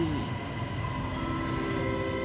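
An MRT underground subway train runs steadily, a continuous rumbling roar with humming tones filling the whole stretch, heard from on board.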